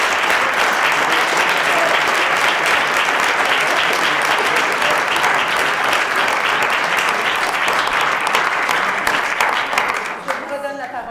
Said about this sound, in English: peut-être avant d'applaudir nos équipes.